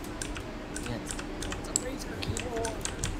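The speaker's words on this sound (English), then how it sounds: "Even if I type really softly, you can still hear it." Soft typing on a computer keyboard: a quiet, steady patter of light key clicks close by over a low background hum.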